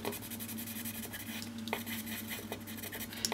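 Quiet, continuous scratchy rubbing of Prismacolor colored pencil strokes on paper, with a few brief sharper scrapes.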